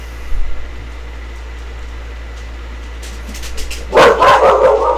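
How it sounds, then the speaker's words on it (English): A dog barks a quick run of sharp barks near the end, fairly close and loud, after a stretch of low steady hum and background noise in a hobby workshop. "Alright, got a dog barking."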